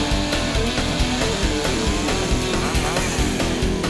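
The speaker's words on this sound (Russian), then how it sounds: "Берем бревно и бензопилу." A petrol chainsaw cuts deep criss-cross notches into the top of a log, the engine snarling loud and close in a steady high-revving drone with rhythmic pulsing as the chain bites, no talk over it.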